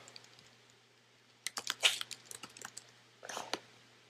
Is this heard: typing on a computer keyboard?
yes